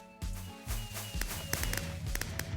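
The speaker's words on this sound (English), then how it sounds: "this lever goes, shoots the fireworks up" Fireworks launched by a lever in Minecraft, a quick run of close, sharp popping thumps and crackles layered over each other in rapid, uneven succession.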